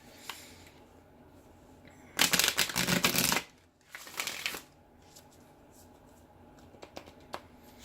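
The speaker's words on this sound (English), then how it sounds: "I am going to go ahead and pre-shuffle and pre-lay all my cards." Cards are riffle-shuffled in one loud burst of rapid flutter, then a shorter softer shuffle, followed by quiet with occasional light taps.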